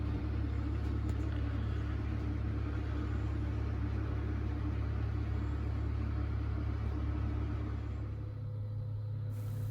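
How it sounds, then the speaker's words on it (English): A truck rotates a trailer carrying a 12x16 backyard shed on a tight street circle, giving a steady, loud engine rumble that holds throughout and eases slightly near the end. "He is rotating the trailer because the circle of our street is too tight for him to swing"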